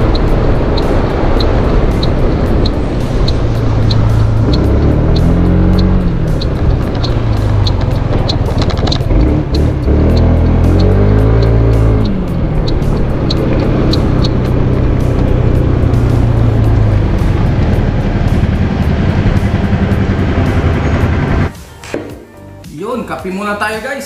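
A repaired motorcycle's engine runs steadily and loudly throughout, with rising and falling revs as it rides along, close and continuous before tapering at the end.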